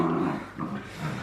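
A miniature dachshund growls low and pants close by in short, rough bursts of dog breath and throaty rumble over about a second, with no speech.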